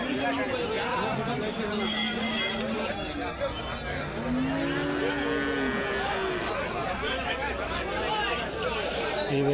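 Cattle at a livestock market in Karimangalam, Dharmapuri district, where milk cows and other native cattle are sold, moo repeatedly in drawn-out calls over a busy crowd murmur, with people talking nearby throughout.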